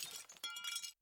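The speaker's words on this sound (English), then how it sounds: "A picture is ripped from the wall and thrown over the second-story railing and smashed in the foyer." A framed picture smashes onto a foyer floor, a loud crash of breaking glass with bright clinking shards scattering for about a second before cutting to silence.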